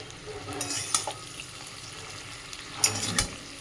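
Vegetables including eggplant being stirred with salt and sugar in a pan, soft scraping and faint sizzling with a couple of sharper utensil clinks near the end.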